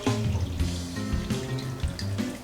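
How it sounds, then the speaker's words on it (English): Hot water runs from a kitchen tap for dissolving baking soda while making chocolate chip cookies, a close, gurgling trickle with shifting tones and brief splashy bursts, steady for a couple of seconds. "First we must dissolve the baking soda in some hot water. How much hot water? 2 teaspoons of hot water."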